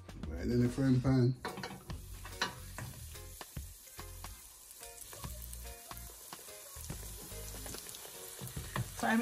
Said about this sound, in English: Right in the frying pan.